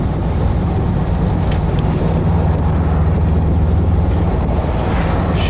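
A 1979 VW Beetle Cabriolet on a test drive in fourth gear makes a steady, loud engine and road drone mixed with heavy wind rush. The sound stays constant throughout, with no voices.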